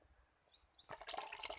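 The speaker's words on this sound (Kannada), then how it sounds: "ಸ್ವಲ್ಪ ನೀರು ಇಡಂದಿದ್ರೆ ಅದಕ್ಕೆ ನೀರು ತುಂಬಿಸಾಕೇನಿ" After a brief faint squeak, water splashes and gurgles as it is poured into a container, close and moderately loud.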